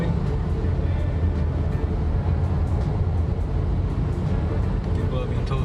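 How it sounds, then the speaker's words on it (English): Heavy vehicle engine rumble and steady road noise as a truck and cars drive aboard a ferry at Igoumenitsa port, a continuous loud low drone with faint clatter and no clear voices. "Car behind the truck moving."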